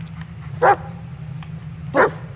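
Two short dog barks from a dog in the Blair Witch video game, spaced about a second apart, fairly close and clear over a steady low background hum.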